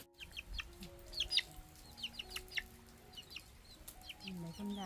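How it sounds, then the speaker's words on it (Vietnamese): Several chickens cluck in quick, scattered bursts around a farmyard, close and fairly loud, with a steady background hum and no speech. "Gà này đẹp quá."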